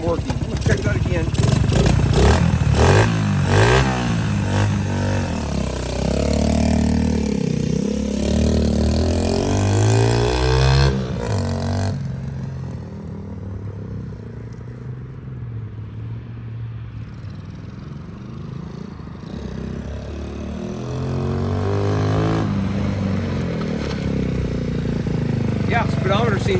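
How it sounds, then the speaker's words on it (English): A Honda XL70 motorcycle is ridden and shifted through four gears, its small engine buzzing and revving continuously, rising and dropping in pitch with each shift, accompanied by wind rumble. "Shift through all four gears."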